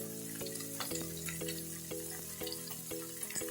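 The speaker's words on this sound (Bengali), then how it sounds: "একটা টমেটো কুচিয়ে নিয়ে দিয়ে দিলাম, দিয়ে আবার নেড়ে চেড়ে নেব" Chopped tomato frying and being stirred in a pan for a katla fish curry, a continuous sizzle punctuated by regular spatula knocks against the pan, with a faint steady hum underneath.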